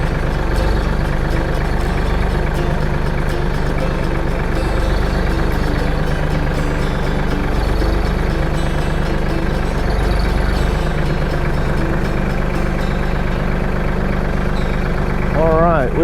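A Mahindra Max 26 XLT subcompact tractor idles close by while unloading a pallet, giving a steady low diesel rumble through the whole stretch. Talk is heard over it.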